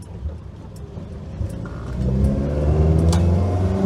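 A 1972 Sunbeam Rapier with electric power steering driving on the road, its engine note rising steadily as it gathers speed, heard from close by.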